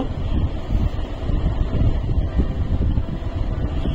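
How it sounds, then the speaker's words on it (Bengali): Coconut biscuit dough deep-fries in oil until reddish brown, giving a steady, close, dense sizzling hiss with no pauses and no talk. "এইভাবে আমি খুব ভালো করে লাল করে ভেজে নেব।"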